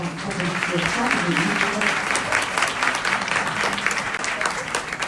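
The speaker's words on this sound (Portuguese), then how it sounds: "Pediria, por gentileza, uma salva de palmas para a" Audience applauding steadily at the close of a legal workshop, a dense, even wash of clapping that holds at full strength throughout with a faint voice underneath.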